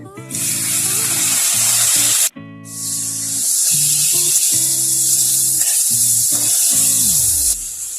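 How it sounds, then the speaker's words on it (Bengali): Chopped tomatoes hit hot oil already seasoned with cumin seeds, dried red chilli and bay leaf for a Bengali veg dal, giving a loud, steady frying hiss that breaks off briefly and resumes over background music. "ভালো করে ভেজে নেব টমেটো কুচিগুলো দিয়ে দেবো"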